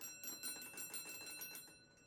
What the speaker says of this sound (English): that's the sound that it makes if I set it to have an alarm